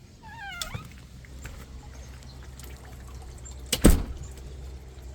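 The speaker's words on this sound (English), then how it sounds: "There's my cat." A domestic cat beside a backyard pond gives a short, rising meow near the start, followed by a faint trickle of water and a brief louder knock or rustle close by.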